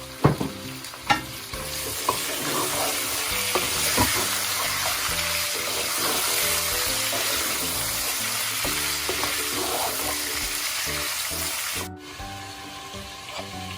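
Loud, steady sizzling and crackling of meat frying in hot oil, with stirring clatter and a few sharp scrapes near the start, no voices.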